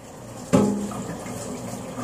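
Kitchen tap water suddenly running for brief washing during brownie making, a splashy burst that quickly settles into a soft steady trickle, close and fairly quiet, with no talking.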